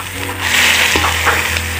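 Fiddlehead fern greens fry with onion in hot oil in an Assamese village kitchen, giving a steady close sizzle with a brief stirring clatter partway through and no talking.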